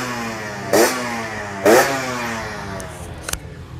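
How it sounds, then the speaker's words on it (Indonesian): Tuned motorcycle engine at a drag-racing prep area out in the countryside, revving hard twice in sharp bursts over a steady idle, close and loud, then a brief crackle before settling. "Ini motornya si Idola 69 cuy."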